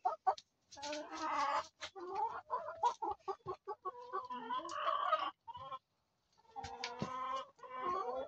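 A flock of backyard laying hens clucks and squawks busily close by, overlapping bursts of clucking with brief pauses.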